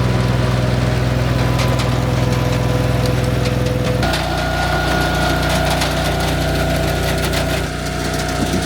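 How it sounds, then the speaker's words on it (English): A Wolfe Ridge 17VS-C wood splitter engine runs steadily and loud at night in winter, a constant close mechanical drone with a slight shift in tone partway through as the conveyor moves out, with no talking. "Bring the conveyor out now, that'll generate some heat for the hydraulic system."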